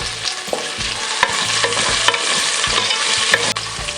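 Garlic frying in oil at the start of a beef-skin balbacua stew, giving a steady dense sizzle broken by repeated scraping and stirring knocks of a utensil in the pan.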